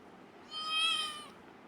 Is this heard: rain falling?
no